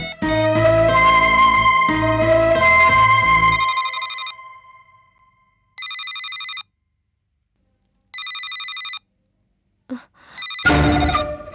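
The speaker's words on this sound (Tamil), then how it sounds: "வீட்ல இருந்து ஃபோன் வருதே." A telephone rings in repeated electronic bursts, first over loud music, then alone in short evenly spaced tones separated by silence, with a brief noise at the end.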